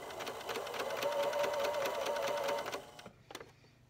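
A sewing machine runs a zigzag stitch on a fabric sleep mask, giving a rhythmic, close mechanical chatter for about three seconds before stopping, followed by a few faint handling clicks.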